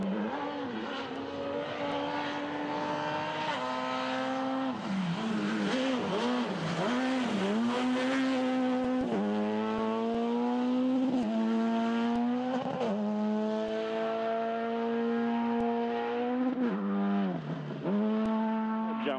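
A Proton Satria rally car races flat out along fast-flowing New Zealand roads, its engine revving hard and climbing through repeated gear changes, loud and close throughout with no one talking.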